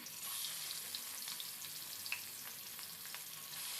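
Pieces of rohu fish coated in salt and turmeric frying in a pan, a quiet continuous sizzle with faint crackles and small pops, alone.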